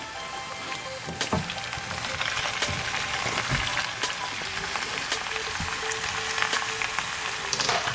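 Onions, red, orange and green peppers, and tomatoes sizzle steadily in a pot for an oxtail dish, a close, continuous frying hiss with scattered pops and crackles and no talk.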